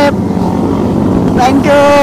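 Big motorcycle engines revving hard at a Sunday-morning ride meetup, a steady loud roar with a rising pitch sweep near the end, while people talk over it.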